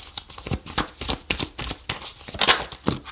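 Tarot cards being shuffled by hand, a quick run of crisp riffling and flicking bursts, close and uneven in rhythm, with no talk.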